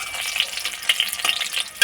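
Potato-stuffed green chili fritters fry in hot oil, giving a bright, crackling sizzle with scattered pops and a scrape of stirring, close and without any talking.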